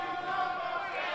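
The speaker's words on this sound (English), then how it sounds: "Crowd now splitting their chance of support." A live arena crowd at an Ultimate Women of Wrestling event in Las Vegas roars in a steady, dense wash of cheering and shouting, loud and continuous without a break across the moment.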